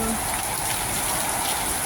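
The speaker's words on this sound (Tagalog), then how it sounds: "lakas ng ulan" Heavy rain pours steadily, a dense continuous hiss with no breaks.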